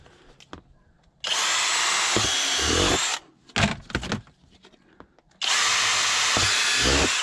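A power drill bores tap holes into black walnut trees outdoors, running in two long loud bursts of several seconds each, separated by a stretch of shorter handling knocks and clatter.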